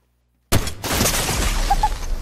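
A Dragon's Breath shotgun fires in a video game: a sudden loud blast breaks the silence, then a dense roaring, crackling burn carries on steadily to the end.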